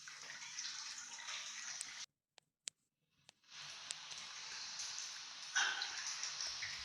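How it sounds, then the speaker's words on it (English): A severe leak on the main cold water service pipe in a commercial building's cupboard gives a steady, hard hiss of escaping water that cuts out for about a second with a few sharp clicks, then returns and holds. "you can see there's a severe leak on the main cold water service in the"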